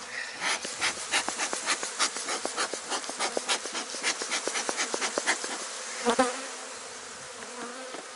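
Dense, steady buzzing of many honey bees in a hive close by, a busy swarming hum with individual wingbeats flickering through, easing off toward the end.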